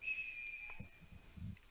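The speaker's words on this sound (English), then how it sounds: "Whistle blows, and they're going to whistle the Dons for offsides." A referee's whistle at a Wisconsin high school soccer match, one sustained shrill tone fading after about a second, followed by faint low thumps of crowd or field noise.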